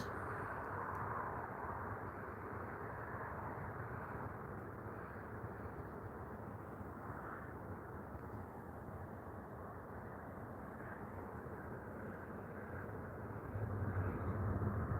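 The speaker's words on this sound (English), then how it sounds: "There's another plane." A steady, distant jet drone rolls on continuously, a broad low roar that swells slightly near the end, with no talking.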